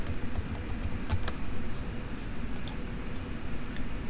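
Keys on a computer keyboard tapped in short irregular bursts while a title block is filled in on a drafting program, light clicks sitting over a steady low room hum.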